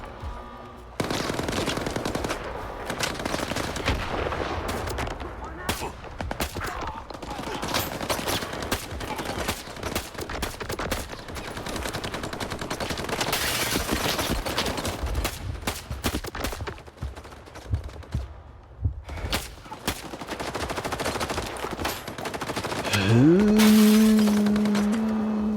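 Gunfire in S.T.A.L.K.E.R. 2: sustained automatic bursts and scattered single shots crackle loudly and almost continuously for around twenty seconds, then a rising tonal whine enters near the end.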